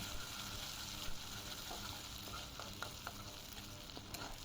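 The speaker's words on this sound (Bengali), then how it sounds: "এবার ওই তেলে আমি পেঁয়াজটা লাল করে ভেজে নেব" Onion frying in oil until reddish, after potatoes were fried in it, for a chicken masala; a faint, continuous bubbling sizzle with a few light clicks, no voices.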